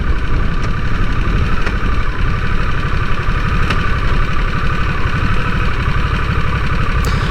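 A 2022 Harley-Davidson Nightster motorcycle engine runs steadily at idle, a loud, close, continuous rumble with a fast even pulse and a few faint clicks on top.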